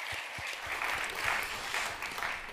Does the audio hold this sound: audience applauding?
yes